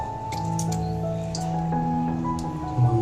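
Lemon juice dripping and squishing over washed raw chicken for a curry, with soft wet drips and squelches close by over a steady background hum.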